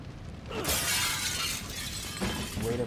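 Glass doors shatter in The Evil Within 2, a sudden loud crash at about half a second that keeps crackling with falling shards, then a second burst of breaking glass near the end.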